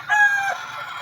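A fighting rooster gives a single loud, close crow, a drawn-out cock-a-doodle-doo that rings clearly for about half a second and then trails off, with no talk over it.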